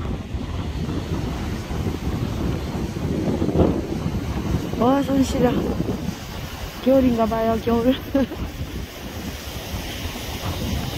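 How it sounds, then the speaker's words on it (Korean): Rushing ocean surf and gusty wind roar steadily along the Jeju shore at night in winter while someone speaks briefly over it. "파도 소리 들리시나요?"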